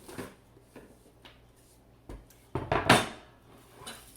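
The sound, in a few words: chopped onions being transferred into another bowl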